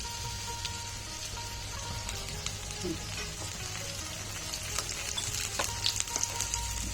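Whole pomfret coated in rava and green masala fries in a hot pan with curry leaves, giving a steady crackling sizzle with scattered sharp pops, close and continuous, no voices.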